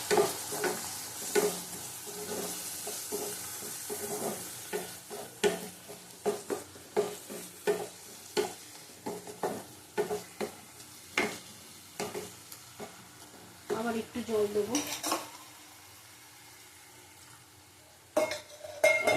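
Spices for a raw banana and potato curry are stir-fried in oil, a quiet sizzle broken by a regular rhythm of spatula scrapes and knocks against the pan, pausing near the end before stirring resumes.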